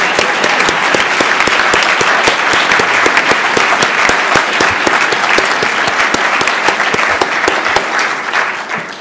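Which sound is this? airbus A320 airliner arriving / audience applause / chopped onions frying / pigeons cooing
audience applause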